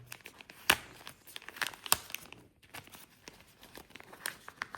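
Close crinkling and rustling of paper and plastic packaging while unboxing a DJI Mic Mini, with several sharper crackles and tears among steady handling noise.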